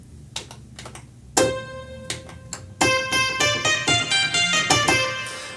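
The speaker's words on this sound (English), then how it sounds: "Over here we have the Roland JV30, which was one of my first synthesizers that I bought." A bright Roland JV-30 synthesizer chord rings out after a few soft taps, then a series of rhythmic, sustained synth chords play with a slightly percussive attack.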